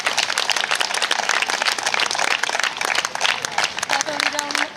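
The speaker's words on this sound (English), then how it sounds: "Please a big applause for the organizing committee of the Split Summer Night Shows." Audience applause at the opening ceremony of the Split Summer Night dog show in Croatia: a dense, steady wash of clapping that fills the whole stretch at a fairly loud, even level.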